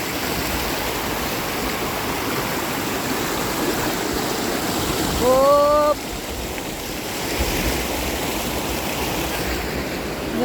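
Strong, high water of the Tung Chung River in Hong Kong being waded across, a loud continuous rushing roar; a brief whistle-like tone rises midway, then the roar drops back slightly.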